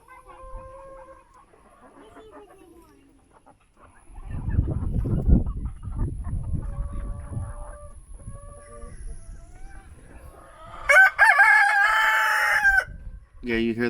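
A rooster with a big tail crows loudly and close in a farm yard among mixed chicken breeds, a drawn-out call near the end over clucking hens and general fowl noise.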